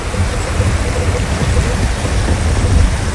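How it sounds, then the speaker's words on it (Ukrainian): Cold Zhenets river rushing near Zhenetskyi Huk waterfall in the Carpathians, a loud, steady broadband roar of water close by with no pause. "Річка Женець називається."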